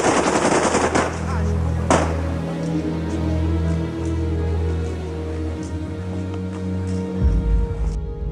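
A firing squad lets loose a sustained, loud burst of machine gun fire, with dense rapid shots at the start and a sharp crack near two seconds, then rattling echoes and rumbling low noise that carry on to the end.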